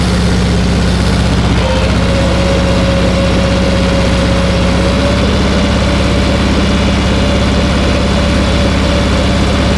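Tractor engine running steadily while planting a sunflower field with a cover crop, a loud, continuous low diesel drone with a faint steady whine, close by and alone without talk.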